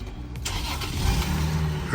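A 1985 left-hand-drive Mercedes-Benz W116 engine catches with a sharp start, then settles into a steady, rumbling run close by, with no one talking over it.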